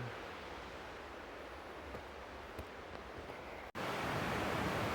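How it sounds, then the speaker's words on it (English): Flowing stream water rushing beneath a trail bridge on the Williwaw Lakes Trail near Anchorage, Alaska: a steady, close broadband wash that continues unbroken, with one brief dropout near the end. "I heard the water coming to this bridge."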